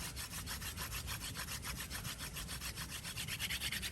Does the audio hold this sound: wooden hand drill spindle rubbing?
yes